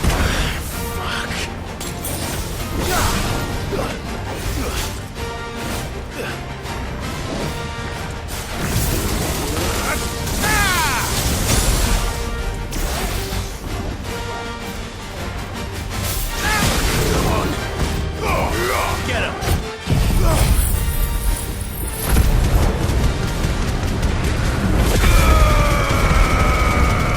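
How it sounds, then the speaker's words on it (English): Heavy booming blasts and crashing impacts from Final Fantasy 16 combat, layered over a dense game soundtrack, loud and continuous throughout with repeated bursts, a sharp drop near the middle, then a swell again. "Big explosions."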